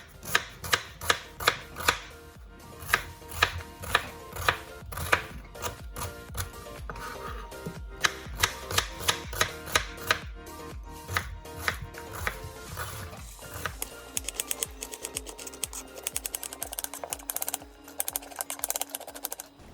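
A knife chops an onion into quarters on a cutting board for squash caviar, giving crisp, rhythmic close knocks in quick bursts, then faster, lighter irregular taps toward the end.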